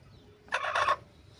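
Hens squawk briefly in a short, loud burst while being caught for vaccination, a single squawking outburst about half a second long against a quiet background.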